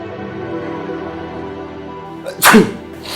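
A single sharp sneeze, loud and close, bursting out near the end after quiet background music.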